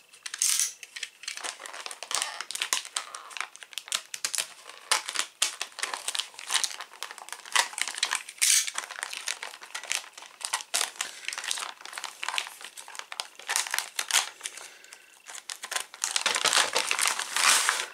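Parts for a Patrouille de France Alphajet model kit, including a plastic rear cockpit canopy, are unwrapped from their packaging, giving close, continuous crinkling and crumpling of wrapping with scattered sharp rustles and small clicks throughout.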